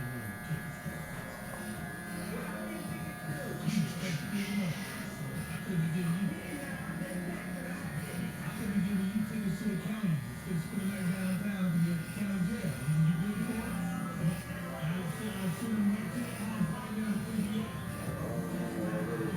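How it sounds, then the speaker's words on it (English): A Wahl 5-Star Senior electric hair clipper buzzes steadily and close throughout a mohawk and beard trim, its hum rising and falling slightly as it moves, with someone talking over it. "Utility everyday clipper."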